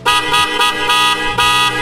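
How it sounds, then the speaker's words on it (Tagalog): A quad car horn setup on a 2014 Honda Jazz blasts in loud, brassy honks, several sharp repeated toots run close together, very near and dominant. "Lakas ng busina natin guys."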